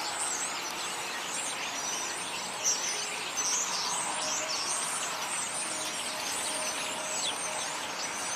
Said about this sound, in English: There's some starlings here.